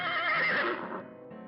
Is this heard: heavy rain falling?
no